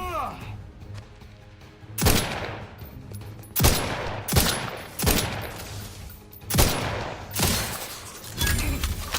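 Bursts of gunfire in The Outer Worlds 2, five or six loud separate volleys spaced a second or two apart over a low ambient hum, with a voice talking between shots.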